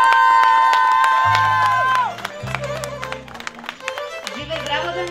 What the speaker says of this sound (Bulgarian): Аплодисменти за кумицата!